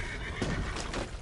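A horse in the online western video game Red Dead Online gives a short, fairly loud neigh with no talking over it.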